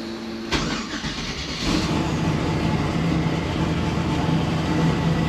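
A 5.3 V8 engine runs on a dyno with 62 pounds of dome pressure, a loud steady mechanical roar that steps up and grows denser after a sharp onset, continuous and close with no talk.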